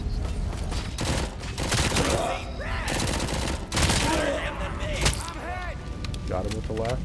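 Rapid bursts of gunfire from the RoboCop video game crackle almost without a break, loud and dense, with speech-like sounds from the game mixed in.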